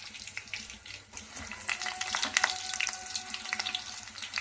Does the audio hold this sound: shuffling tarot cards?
no